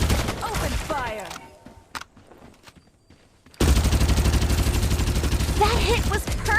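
Loud, dense automatic gunfire in Farlight 84 opens up after a quieter lull, with sustained rapid shots filling the latter half at close range, alongside occasional game effects and a voice early on.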